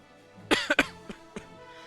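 A few sharp, close coughs in quick succession, followed by two softer, smaller coughs, with quiet in between.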